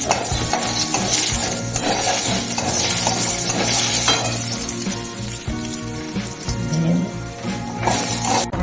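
Bori lentil dumplings frying in hot oil in a home vegetarian kitchen, a steady sizzle with stirring and clinks of a utensil against the pan running throughout, fairly loud and close, with no talk.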